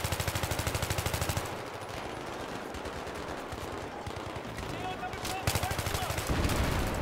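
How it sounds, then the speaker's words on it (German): Rapid automatic gunfire rattles through a Battlefield 3 campaign firefight, bursts of dense machine-gun shots at the start and again near the end, with a quieter stretch of scattered fire and battle noise between. "Wir sind auch gleich ziemlich unter Beschuss geraten."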